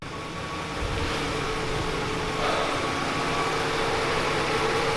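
The V12 in a BMW E38 750iL idles steadily, a smooth, constant mechanical hum and whir heard close by with no speech over it.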